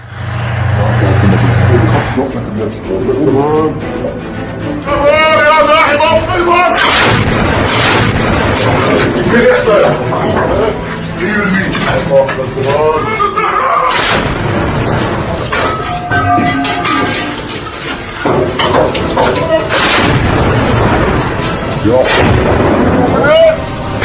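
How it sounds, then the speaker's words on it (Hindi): Artillery shells fired by Hezbollah toward Israeli army positions in a war zone, heard as loud repeated booms and sharp bursts spread over a long stretch, with background noise and voices in between. "हिजबुल्लाह ने अब तोप से गोले दागने शुरू कर दिए इजराइल की सेना पर"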